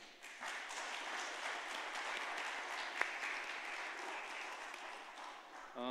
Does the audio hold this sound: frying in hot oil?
no